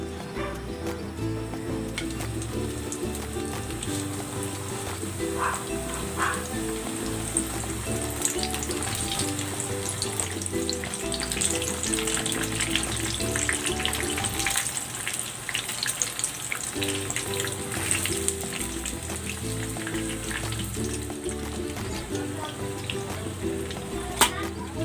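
Vegetable lumpia spring rolls deep-frying in hot oil, a steady bubbling sizzle running throughout with a layer of background music over it.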